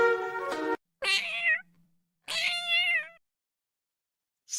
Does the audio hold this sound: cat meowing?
yes